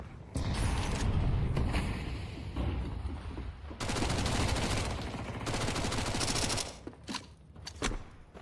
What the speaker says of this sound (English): dziugss and nicx just going to spam off their SMGs.